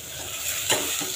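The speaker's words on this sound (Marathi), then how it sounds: "आता हा मसाला आपल्याला छान परतवून घ्यायचा आहे" A green masala of coconut, coriander, ginger and garlic sautés in a pan, a brief close sizzle with a quick stirring scrape in the middle.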